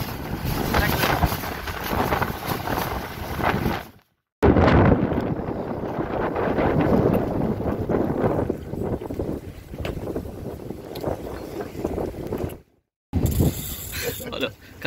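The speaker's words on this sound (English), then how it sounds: "Rough seas, guys, rough seas. Strong wind, strong wind." Strong wind buffets a fishing boat on rough, choppy seas in the Gulf of Paria, Trinidad, with loud continuous wind rush and wave noise close to the microphone, broken by two brief dropouts.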